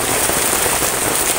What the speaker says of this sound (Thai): บรรยากาศฝนตกๆนะครับพี่น้อง